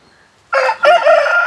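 A rooster about ten to eleven months old on a poultry farm crows loudly and close by, one long strained cock-a-doodle-doo rising after a brief quiet moment, with no talking.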